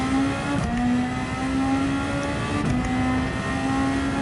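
Superformula race car engine at Suzuka in Gran Turismo 7, a loud, steady high-pitched whine that holds near constant with brief dips at gear shifts, heard up close from on board with no talk.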